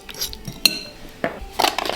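Garlic confit smashed in a bowl, a few quick clinks and scrapes of a utensil against the bowl, sharp and close, with no talking.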